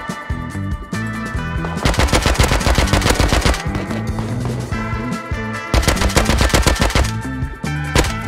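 AK rifle fire in the survival game Rust crackles in loud rapid bursts, long automatic strings broken by short pauses, close and dominant.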